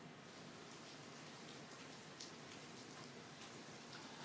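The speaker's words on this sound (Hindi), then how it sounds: "आज सुबह से लगातार बारिश की बूंद जो है वो दिल्ली वासियों के घरों में गिर रही है" Steady morning rain in Delhi, a dense, even patter of drops falling on surfaces, continuous and fairly close with no voices.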